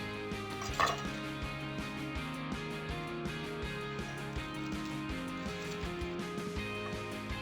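A knife cutting a peeled red onion into thick rings, with steady repeated chopping taps against a board beneath a sustained background hum.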